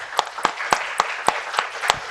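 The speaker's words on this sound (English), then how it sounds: "So let's welcome both speakers with a warm round of applause." Evenly spaced claps, about seven sharp distinct hits in a steady rhythm, as a small audience at an entrepreneurship talk welcomes speakers over a soft background of other clapping.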